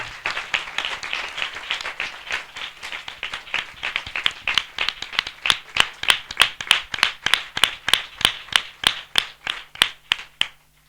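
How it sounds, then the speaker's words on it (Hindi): A church congregation applauds loudly, first as a crowded patter that gradually settles into rhythmic unison clapping, sharp and close, before it stops abruptly. "हम जोरदार तालियों से उनका स्वागत करें"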